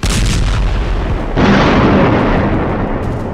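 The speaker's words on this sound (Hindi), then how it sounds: "जिस वक्त गाजा की गली गली में इजराइल के बम गिर रहे हैं," Explosions from Israeli bombing in Gaza, a loud, continuous rumbling roar of blasts that swells sharply partway through and stays dense and heavy, with no voices.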